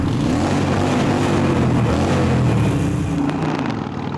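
A Harley-Davidson Sportster engine revs in neutral inside a tunnel, a loud booming rumble that builds and holds with a reverberant echo, then eases off at the end.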